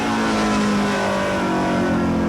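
Loud, continuous roar of stock race cars on fresh right-side Hoosier tires accelerating hard as the leaders pull away on the restart at the Oktoberfest 200, engines droning close and steady.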